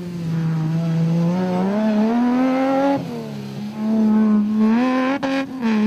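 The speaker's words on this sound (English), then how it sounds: "Cronje and the wily navigator Chris Birkin shot by our vantage point in their Castrol Toyota" A Castrol Toyota off-road race car in a desert race passes at speed with a loud, rising engine whine. The pitch climbs, dips as it shifts, then climbs again as it goes by.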